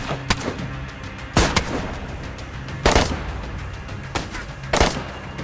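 A gunfight in the zombie survival video game DayZ: separate loud gunshots spaced a second or so apart, some doubled, each with a booming tail over a low background rumble.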